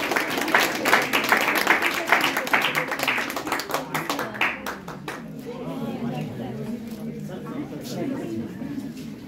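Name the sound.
audience applause at a student award ceremony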